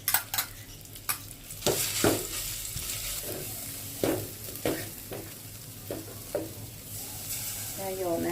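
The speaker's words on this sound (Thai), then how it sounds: "จะเอาพริกแกงเราไปผัดนะคะ" Curry paste sizzles and fries in a pot with a little oil, with repeated scraping stirs at an irregular rhythm, close and moderately loud, with no talking.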